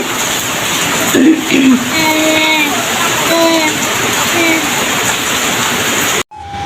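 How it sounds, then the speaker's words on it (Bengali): Steady rain hisses down in a dense, even wash that carries on throughout, with a few brief voices and a child's sounds rising over it before it cuts off abruptly at the end. "বৃষ্টি দেখে তো ভালো লাগছে দেখেন বৃষ্টির মধ্যে বেজে একজন যাচ্ছে"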